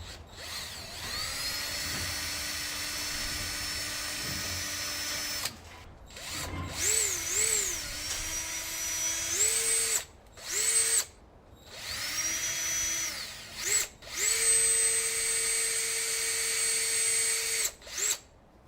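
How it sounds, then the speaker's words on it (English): A power drill bores holes through rear seat leather, running in several bursts of shifting pitch that rise and fall as the trigger is squeezed and released, with brief pauses between. The drill is close and loud, with no talking. "We'll go ahead and get it drilled."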